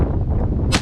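A single loud shotgun blast fired at ducks during a windy hunt in Nova Scotia, a sharp close report with a brief burst of noise near its end, heard on its own without talk.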